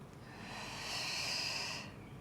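A single deep, steady inhalation during a posture breathing exercise: a close, airy hiss that rises and holds for under two seconds, then stops.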